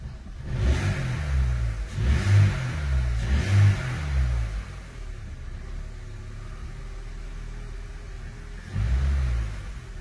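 A faulty car engine revs in repeated uneven bursts, surging and sagging as if about to cut out, with a quieter lull before a final rev near the end.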